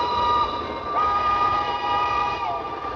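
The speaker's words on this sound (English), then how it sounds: "A loud whistle echoed throughout the tunnel, and Jean-Tom looked back to see a train barreling straight toward him" Train in a tunnel sounds a long, steady whistle over a continuous rumbling roar, loud and close, with the tone wavering slightly as it passes.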